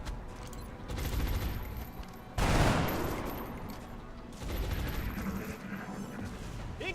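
Heavy continuous gunfire in a tactical video game fight, dense overlapping bursts with a loud explosive surge midway and sustained shooting continuing afterward.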